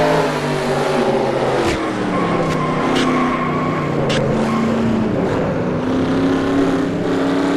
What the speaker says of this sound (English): Watch Kyle Matthews somehow, someway get through this wreck without hitting a thing